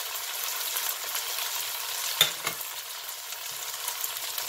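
Basil leaves fry in a pan while stir-fried noodles are being made, making a soft, steady sizzle with a brief clatter of stirring near the middle, heard up close and with nobody speaking.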